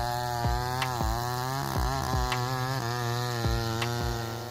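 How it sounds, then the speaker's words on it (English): McCulloch 797 chainsaw cutting through a large oak trunk, a loud, close, steady engine roar whose pitch dips and rises repeatedly as the chain bites into the hardwood. "The McCulloch 797 chainsaw efficiently cuts hardwood, easily handling large tree trunks like this oak tree with precision and speed."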